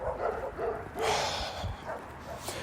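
A dog barks nearby in a few quick, fairly soft yips and woofs over faint background rumble, with no one talking.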